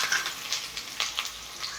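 Chopped small shallots sizzling in hot oil with popped mustard seeds for a coconut-milk chicken curry, a steady close crackle with a few brighter pops and stirring scrapes, no voices.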